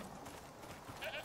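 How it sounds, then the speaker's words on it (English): A goat bleats faintly in the survival video game Icarus, a soft distant call rising briefly near the end over a steady hiss of outdoor ambience. "Here a goat."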